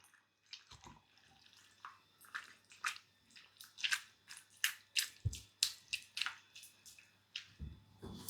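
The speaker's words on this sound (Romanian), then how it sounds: "Acum lăsăm să fiarbă foarte, foarte bine, amestecând pentru a nu se lipi" Homemade ketchup with onion simmers in a pot as it is stirred, giving a run of wet, squelching bubbles and stirring sounds that grow louder and more regular toward the middle, close by and with no voices.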